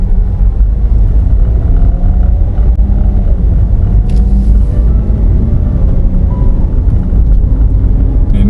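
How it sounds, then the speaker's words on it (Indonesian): Motorcycles pass along a road at night, a steady low engine rumble that swells and fades continuously throughout, with a brief higher whine near the middle and no talk over it. "itu motor juga masih ada"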